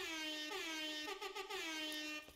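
A single sustained air horn emote in the game Fortnite blares, loud and close, with a brief wavering dip in the middle before it cuts off.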